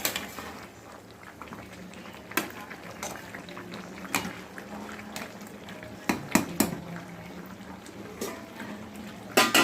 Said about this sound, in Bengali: এই যে জল বেরিয়েছে এই জল দিয়েই কষানো হয়ে যাবে একদম কষা কষা করবো